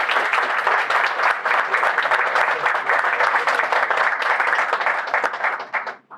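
Sustained, loud applause from an audience at a Cuba solidarity campaign gathering: a dense wash of many hands clapping steadily for about six seconds before fading out at the end.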